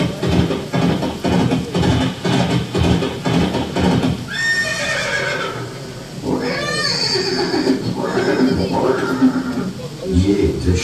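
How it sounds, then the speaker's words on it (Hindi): A horse neighs in a museum scene of the horse Chetak at the Maharana Pratap museum near Haldi Ghati, Rajasthan, several loud whinnies over rhythmic hoof clip-clops, with someone narrating throughout. "ये दृश्य महाराणा प्रताप और सुविख्यात स्वामी भक्ति घोड़े चेतक के अंतिम मिलन का है।"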